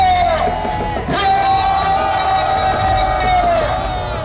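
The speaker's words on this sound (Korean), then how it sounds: "대한민국의 영원한 5초간 함성 지릅시다" A rally crowd in New York shouts a long cheer at a Korean pro-Yoon Suk-yeol demonstration, a loud sustained roar of voices with one steady sung or whistled tone held on top and scattered whoops.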